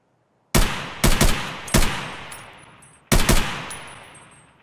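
Rifle gunfire in Escape From Tarkov: four loud, close shot bursts, mostly doubled, with long echoing tails spread over a few seconds and no talk.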